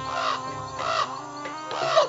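A crow caws loudly and nearby in repeated harsh calls, three bursts spaced across two seconds, heard alone with no talking.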